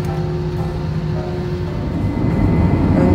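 An EVA Air airliner departing Manila NAIA Terminal 1 heard from inside the cabin as a loud, steady engine roar and rumble that builds slightly toward the end of the takeoff roll.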